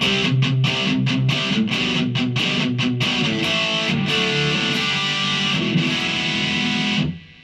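Electric guitar through a Marshall MG15 amp at high gain, heavily distorted, plays tight chugging chords, then rings out sustained before cutting off abruptly.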